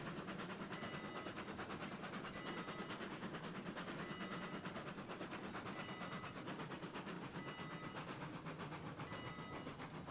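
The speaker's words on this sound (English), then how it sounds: "don't tell me this locomotive's not strong enough for this job now" Steam locomotive hauling a heavy train, a steady loud rumble and hiss running throughout with rhythmic clickety-clack of wheels over rail joints, no speech.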